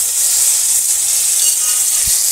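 Lata fish goes into a hot pan in a village kitchen for a thin curry. A loud, steady, close hissing sizzle fills the whole moment.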